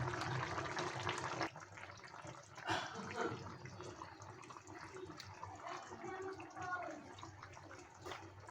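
Water runs from a tap while pieces of rohu fish are washed in a kitchen, a steady faint splashing flow heard close by, with a brief louder rush partway through and no talking.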